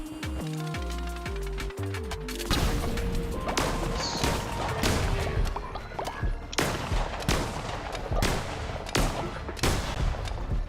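Repeated gunfire from a powerful gun in Cult of the Lamb, sharp loud blasts firing in bursts and single shots over busy game effects and music, with no talking.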